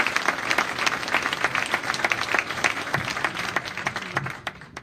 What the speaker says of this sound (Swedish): Nu vill jag med varm applåd välkomna Mandus Engman ifrån Netlight.